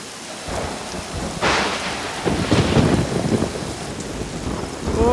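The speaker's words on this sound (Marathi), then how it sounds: "काय पाऊस तर काय थांबायचं नावच घेत नाही." Heavy rain pouring steadily with rolling thunder cracks and rumbles, loud and close, with no voices.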